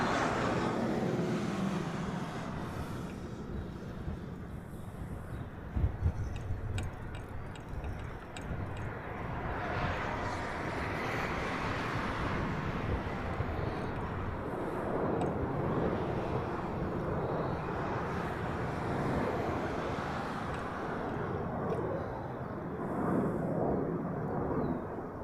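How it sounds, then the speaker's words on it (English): A Hawaiian Airlines Boeing 717 departs from Honolulu airport, its engine roar steady and moderately distant for the whole stretch, a broad rumble with a brief louder thump partway through. "this is a Hawaiian 717"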